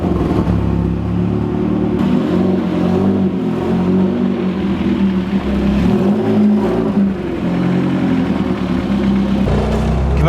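Homemade Vauxhall Nova GTE with a 2.0 turbo engine pulls away on the road, its loud engine rumbling and revving through several surges close by.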